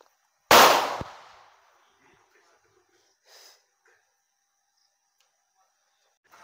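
One loud, sharp firecracker bang rings out and decays into crackle, followed by a couple of faint pops in otherwise quiet surroundings.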